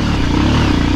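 A 10-12 year old motorcycle runs on a mountain road in Mustang, Nepal, its engine chugging loudly and close with a rapid pulsing idle.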